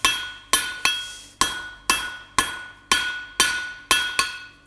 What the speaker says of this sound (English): drop the angle of the hammer slightly and work towards that center section